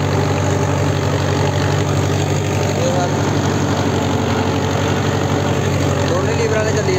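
A Preet 6049 tractor engine runs steadily in a field, a loud continuous diesel drone with a low idling rumble that holds without break throughout.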